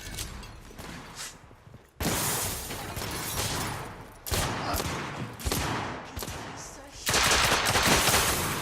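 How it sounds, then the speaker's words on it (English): Gunfire in The Order: 1886, a loud, close fusillade of rapid bursts and single shots that comes in repeated waves with short gaps between them, and voices are heard now and then. "They're shooting at me!"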